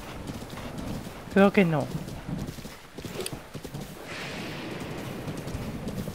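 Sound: horse hooves while riding, from video game Zelda Breath of the Wild

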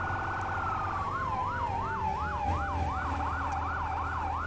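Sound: emergency vehicle siren in the video game Firefighting Simulator - The Squad

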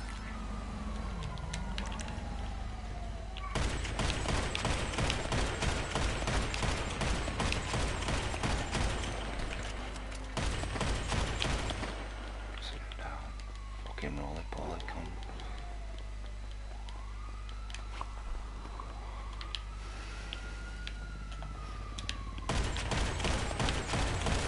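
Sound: gunfire in the video game GTA V

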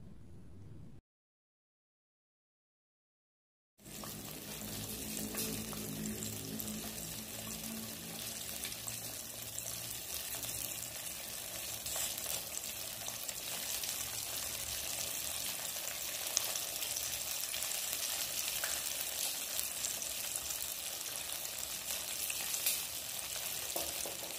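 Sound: crispy chicken deep frying in oil

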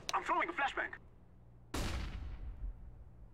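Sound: flashbang grenade detonating in video game Counter-Strike

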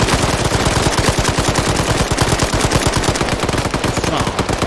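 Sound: gunfire in ambush on Soviet convoy, video game Arma 3

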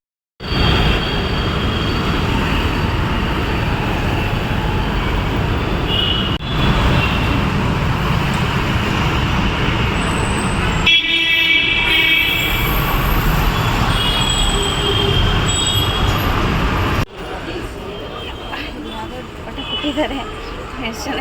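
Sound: metro train ride with wheels squealing

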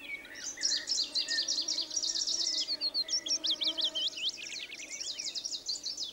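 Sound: willow warbler singing in northern forest

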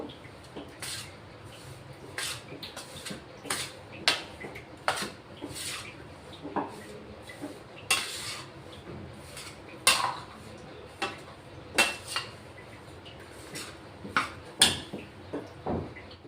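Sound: mixing laddu ingredients with cardamom powder in a pan

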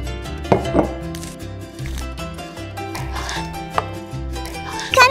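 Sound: cutting butter into small pieces

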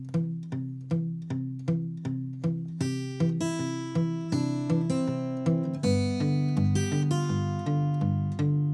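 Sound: fingerstyle guitar playing Freight Train with palm-damped bass

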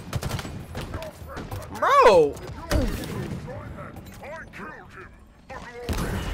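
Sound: gunfire from a VR rifle in a video game

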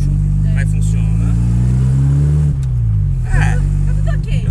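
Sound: Chevrolet Chevette car engine running

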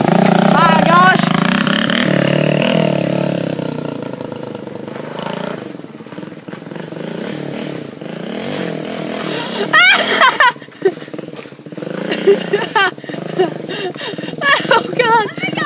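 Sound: off-road four-wheeler engine revving during wheelie test

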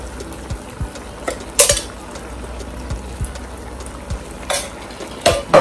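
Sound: tomato poured into hot pot, sizzling

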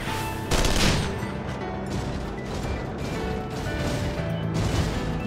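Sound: machine gun fire from a mount in Final Fantasy XIV video game

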